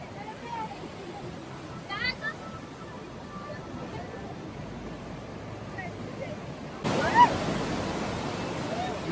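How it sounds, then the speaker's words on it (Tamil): Fast-flowing river water at Chaparai cascade in Araku Valley, Andhra Pradesh, a steady broad rushing roar heard from a small iron bridge, swelling louder near the end, with someone talking over it. "பயங்கர வேகமாக போகுது தண்ணி, இங்கே பயங்கர வேகம்."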